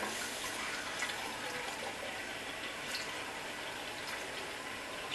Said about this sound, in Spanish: Vamos a poner unos 200 mililitros más o menos de agua.